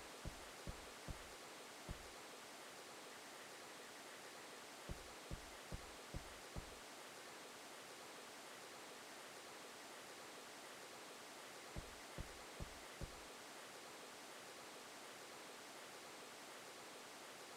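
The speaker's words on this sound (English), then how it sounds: "Maybe we just gotta listen to the waterfall and calm down." A waterfall pours in a fishing video game, a constant broadband rushing wash that fills the whole clip, broken by short clusters of soft low thumps.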